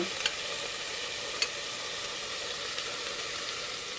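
Frying in a pan while cooking pea and potato soup with ribs, a steady even sizzle held close throughout, with a couple of faint clicks and no talk.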